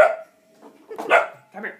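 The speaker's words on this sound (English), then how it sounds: "That's my dog." A dog barks in a few short, loud bursts close by, separated by brief gaps, while a person speaks briefly between them.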